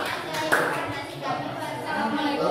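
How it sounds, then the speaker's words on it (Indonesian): A classroom gives a student group a round of applause, with steady clapping from many hands mixed with chatter and children's voices. "Kasih aplaus untuk kelompok"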